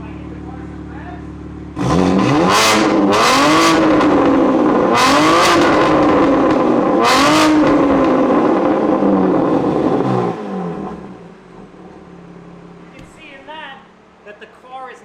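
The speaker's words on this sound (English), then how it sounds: "If I hit the car some revs" A car fitted with Valvetronic Designs electronic exhaust valves revs sharply four times in quick succession, each loud blip rising and falling, then settles back to a quieter idle.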